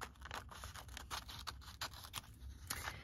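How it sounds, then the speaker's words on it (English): Scissors snip around a small paper image for a Rolodex alphabet craft card, a quick run of close, crisp cuts and scratchy paper rustles at low volume. "so I'm just gonna cut all around it"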